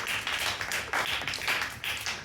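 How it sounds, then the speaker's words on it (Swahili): A church congregation clapping in praise, with quick irregular bursts of many hands close together that pulse unevenly over a couple of seconds. "Pigie Bwana Yesu makofi."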